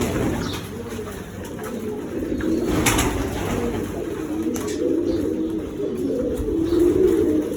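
Pigeons coo steadily and fairly loudly inside a pigeon loft, with soft rolling calls overlapping throughout.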